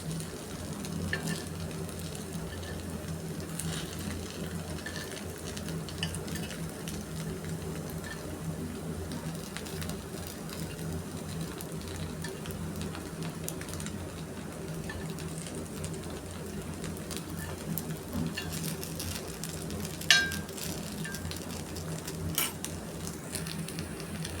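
Aval paniyaram cooking in a pan on a low flame: a long, steady, quiet sizzle like light rain, with faint occasional clicks and one sharper tap near the end.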